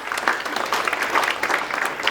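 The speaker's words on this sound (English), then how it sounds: "So to give the big round applause of you as a good parent." Audience applause for parents at a school annual day, a short burst of dense, steady clapping from a crowd filling the room.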